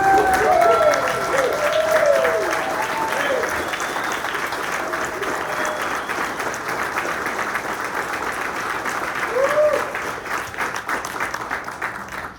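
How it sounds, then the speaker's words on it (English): Audience applause for Riverside County Sheriff Chad Bianco at a morning community event, a broad steady wash of clapping from a sizable crowd, loud throughout, with voices and brief whoops rising above it. "give a warm applause for our Sheriff of Riverside County"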